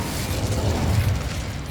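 An Incendio fire spell cast in Hogwarts Legacy bursts out as a loud, dense whooshing roar with a heavy low rumble, sustained briefly without fading.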